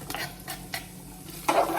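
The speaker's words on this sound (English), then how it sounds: "so I'll just put in the onions straight away." Onions for a stir fry hit the hot pan and sizzle, with a few quick stirring scrapes and a louder burst of frying near the end, close up with no talking.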